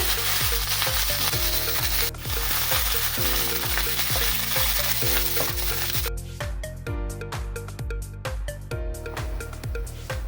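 Loud, steady sizzling of cumin, vadagam and curry leaves frying in hot oil for tempering, with rhythmic stirring scrapes throughout, close up and without speech.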